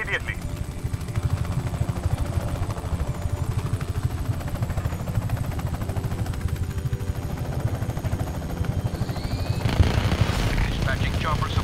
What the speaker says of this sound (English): Dispatching chopper support to contact.